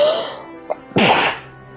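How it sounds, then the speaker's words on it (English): A single sneeze bursts out close to the microphone after a faint sharp intake, loud and abrupt, then dies away into quiet. "Man, I hate it when sneezing comes out of nowhere."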